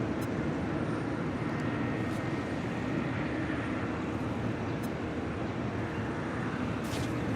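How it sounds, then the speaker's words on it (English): A China Cargo Boeing 777 freighter starts its takeoff roll on runway 25 left at Los Angeles International Airport, giving a constant, moderately distant jet rumble that stays even throughout, with no voices. "we got the China Cargo 777 heading to Shanghai, flight 224, now rolling down at 25 left"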